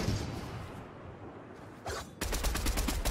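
Rapid assault rifle fire from an MK7 AR in the video game Fortnite, a dense burst of quick shots after a short quieter stretch and a brief whoosh.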